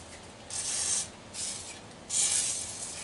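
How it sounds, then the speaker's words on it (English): Lube sprayed from an aerosol can into an engine block's cylinder bore, two distinct hissing bursts, the second longer, close and fairly loud with quiet gaps between. "And spray some more lube in there."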